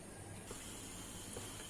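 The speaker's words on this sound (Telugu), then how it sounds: "ఇదిగోండి ఆవిరి వస్తుంది చూసారా" Steam hissing steadily from a pressure cooker on a stove over high flame before the whistle goes on: continuous faint broadband hiss, close, with a slight shift partway through, no talk.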